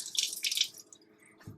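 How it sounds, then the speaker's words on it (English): Water from a tap splashes briefly into a sink where sponges are being tested, a short hiss that fades, followed by a soft thud. "Adding some water."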